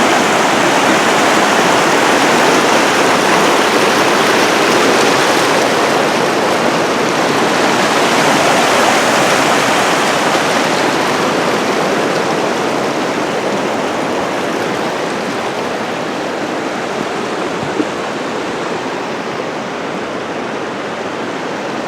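A mountain creek at Mt Rainier rushes out from beneath a snowfield, giving a loud, steady broadband roar of flowing water that stays close and constant throughout, with no voices.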